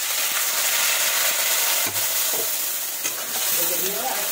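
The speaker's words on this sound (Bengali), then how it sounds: "এবার ভাজা হয়ে গেছে, এবার আমি মশলাটা দিয়ে দেবো" Spice masala sizzles loudly in a frying pan while pointed gourd and paneer kosha cooks, a dense continuous hiss up close with a few soft stirring knocks and no talking.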